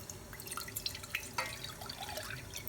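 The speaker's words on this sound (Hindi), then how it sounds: "ये मैं 2 कप दूध डालूँगी और दूध हम डालते हैं अपना देगची में" Milk poured from a container into a cooking pot while making fruit custard, a soft, quiet liquid trickle with faint dripping and splashing running steadily throughout.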